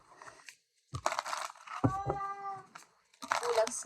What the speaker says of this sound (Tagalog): So, nakikita ninyo o naririnig nyo ang aking pusa.